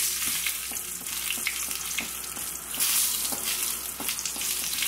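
Pepper powder being stirred into rasam oats in a pot over the flame, a dense hissing sizzle with soft rhythmic spoon strokes, close and steady, no voices.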